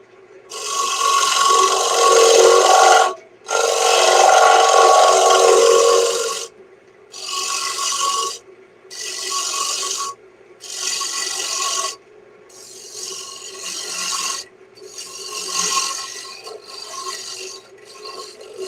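A hand carving tool cuts into wood in a series of long, rasping strokes with a bright, high, singing edge, separated by short pauses and growing shorter and quieter toward the end, with no talk.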